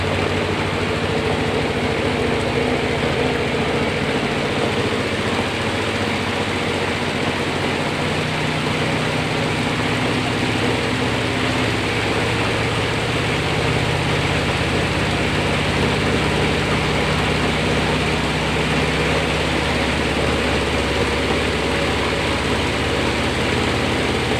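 A Panasonic twin-tub washing machine's spin tub whirs steadily at high speed, a dense, constant mechanical hum and rumble with no pauses or talk.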